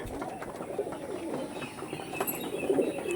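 Soft cooing of Andhra pigeons close by, a few low throaty coos against a faint background murmur.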